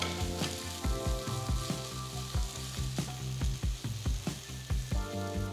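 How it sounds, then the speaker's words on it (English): Chopped green chilli, fresh ginger and garlic sizzle in a pan while a spoon stirs them, giving a steady frying hiss broken by regular, sharp scraping taps. "Next add 1 large green chilli chopped. Mix everything."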